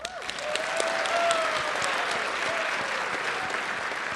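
A fan convention audience breaks into strong, dense applause for a guest at the close of a panel, clapping swelling quickly and holding steady, with a cheer or whoop rising over it early on.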